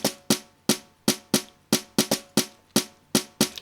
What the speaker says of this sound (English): So the brush is happening here.